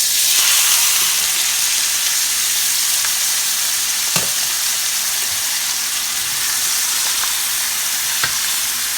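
A keto steak sears in a hot pan with a loud, steady sizzle and hiss throughout, broken by a few faint sharp clicks.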